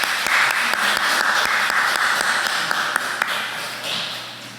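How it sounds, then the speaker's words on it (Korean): A church congregation applauds during a worship service, a dense, steady wash of many hands clapping with sharper individual claps standing out, fairly loud and continuous before tapering slightly at the end. "우리 박수로 환영하겠습니다."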